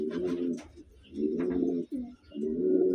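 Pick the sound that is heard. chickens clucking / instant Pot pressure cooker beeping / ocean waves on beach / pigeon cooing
pigeon cooing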